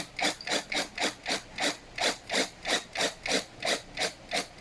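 A bolt is tightened with a ratcheting tool while assembling a gray fabric office chair, a close, steady series of about a dozen evenly spaced rasping ratchet clicks with no talking.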